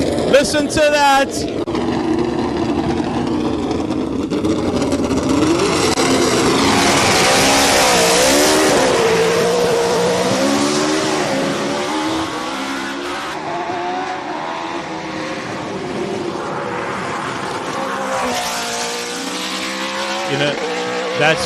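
A Cosworth V8 race car that once raced at Kyalami in 1993 roars past at a hillclimb, its loud engine note rising and sweeping in pitch as it accelerates, then fading slightly, with voices under it.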